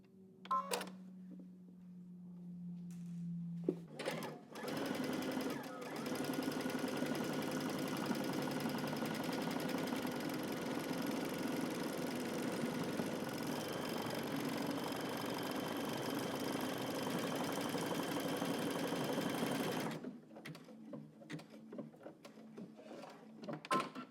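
A sewing machine stitches buttonholes in one continuous close mechanical run of about fifteen seconds, framed by a few quieter clicks and handling sounds before and after.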